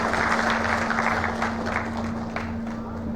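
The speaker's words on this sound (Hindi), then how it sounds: "मैं चाहूँगा एक बार जोरदार तालियों के साथ एक बार" Loud, steady applause from a large audience at an outdoor public government event with officials on stage, sustained clapping filling the whole stretch over a constant electrical hum, with some crowd noise mixed in.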